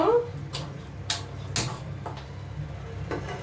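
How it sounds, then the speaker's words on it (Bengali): A cooking pan is set down on a gas stove in a home kitchen before heating: a few brief metallic knocks and clatters, fairly close, over low background hum and faint talk. "প্রথমে আমি বসিয়ে দিলাম প্যানটা এবার আমি গরম করব।"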